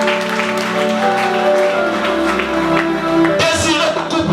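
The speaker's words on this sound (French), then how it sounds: "Acclame très fort le Seigneur" A church congregation applauds and cheers loudly, with sustained clapping under raised voices and sung or shouted tones, the crowd noise swelling again near the end.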